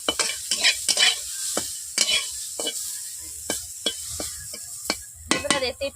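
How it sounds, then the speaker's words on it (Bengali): Cashews and raisins frying in a wok, stirred busily with a metal spoon, giving repeated sharp scrapes and clicks over a light sizzle, close by, with no voices. "আমি কাজু কিশমিশ গুলোকে ভেজে নিচ্ছি"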